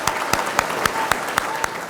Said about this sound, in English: Give these guys one more round of applause, please.